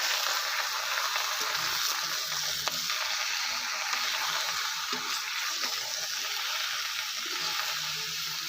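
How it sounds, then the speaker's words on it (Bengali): Bottle gourd with turmeric and salt cooks in a pan with a continuous, even sizzle and hiss, while a spatula stirs it with soft, scattered scraping sounds. "এবার আমি খুঁটি দিয়ে একটু নাড়াচাড়া করব"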